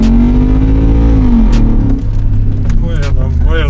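A BMW X5 4.8is accelerates hard, its engine note climbing in pitch and roaring loudly close by, easing briefly before revving again while people exclaim over it.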